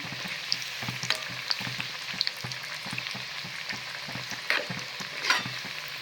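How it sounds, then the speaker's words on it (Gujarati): Kothimbir vadi pieces, coriander snacks, deep fry while being turned in oil, giving a steady close sizzle with scattered bubbling crackles and light stirring clicks throughout. "ફેરવીને તળી દઈશું."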